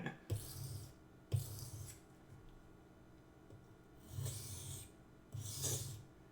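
A kitchen knife blade is drawn along a sharpener in several slow raspy strokes, each a short grinding swipe separated by pauses, close and fairly quiet.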